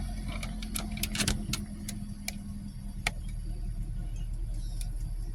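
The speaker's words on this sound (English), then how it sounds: "You're going to let it run until the idle goes down to normal, which is right about 750 RPM." The engine of a 2015 Buick Verano idles at a low, steady rumble during an idle relearn, while sharp ticking clicks stand out over it near the start.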